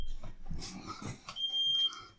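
A home fire alarm sounds a single high, steady electronic tone partway through, brief and fairly clear over a muddled, noisy room background with no talking.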